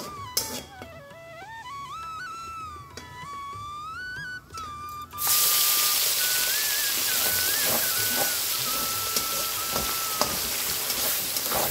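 Blended onion, ginger, garlic and tomato paste dropped into hot oil spiced with bay leaf, cumin and dried chilli, breaking into a loud, steady sizzle midway after a quieter start, with background melody and no talking.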